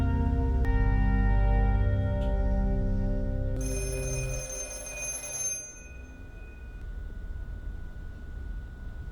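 An old wall telephone rings in a basement in The Black Phone film, a loud harsh mechanical bell clanging for several seconds, then cutting off and leaving a low rumbling room tone.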